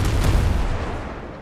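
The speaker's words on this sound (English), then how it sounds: "Holy crap, there's a giant ship out there shooting cannons." A giant pirate ship fires its cannons in the video game Windrose, two loud booms in quick succession trailing into a rolling rumble that fades out.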